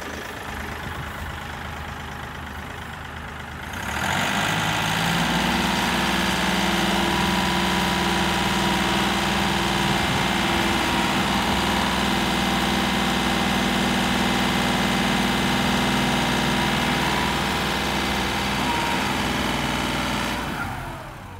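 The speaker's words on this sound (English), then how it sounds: "I will raise the loader in the air" A Kioti NX4510 tractor engine idles, then rises into a loud, steady, rumbling drone as the front loader is raised, holding level for many seconds before easing off at the end.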